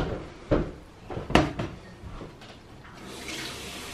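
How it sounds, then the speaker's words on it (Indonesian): Kitchen sink washing, with a few knocks and clatters of dishes or a cabinet followed by running tap water that swells and keeps flowing, recorded close. "Cuci mencuci."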